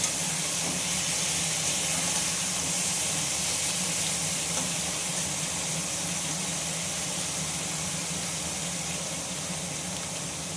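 A little water splashed into a hot cooking pan sends up a continuous steamy hiss and soft sizzle, steady and close, fading slightly toward the end with no voices.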